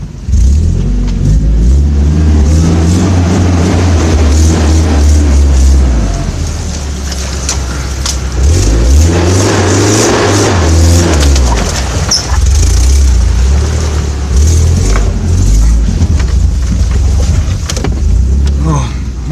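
A 4x4 off-road vehicle's engine drones loudly while climbing mountain terrain, rising and falling in revs in long sweeps, with voices talking over the steady noise.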